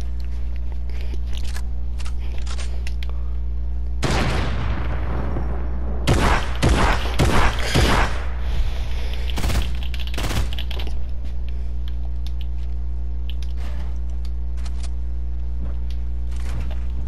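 Video game gunfire from a creative-mode battle, with bursts of rapid shots clustered in the middle and scattered single pops before and after, set over a steady low hum.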